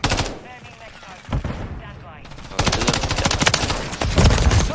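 A CZ 805 BREN rifle in Call of Duty MW3 fires loud, rapid bursts of automatic gunfire, a sparser volley followed by denser, heavier rattling toward the end.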